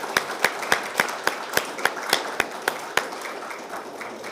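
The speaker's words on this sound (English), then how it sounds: "let's give them another great round of applause" A round of applause at an Archives Awareness Week program, heard as sparse, sharp individual claps in a steady rhythm, fairly close, loud and alone.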